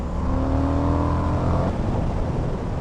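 Indian FTR 1200 S Race Replica motorcycle engine accelerates hard and close, its rising whine climbing for about a second and a half before easing into a steady rumble.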